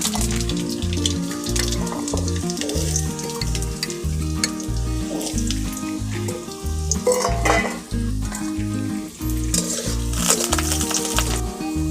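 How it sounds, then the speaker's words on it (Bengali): Dried red chillies, Bengali five-spice and potatoes frying in hot oil in a wok, a loud, continuous sizzle with crackling and scraping stirs, heard up close throughout without any voices. "শুকনো লঙ্কা দিয়ে দেব, পাঁচফোড়ন দিয়ে আলু দিয়ে দেব।"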